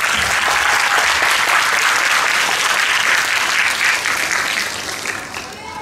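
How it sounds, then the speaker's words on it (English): Students at a school gathering applaud their teachers, a dense, loud burst of many hands clapping that holds steady for several seconds and then tapers off toward the end. "let's give a round of applause to our teachers."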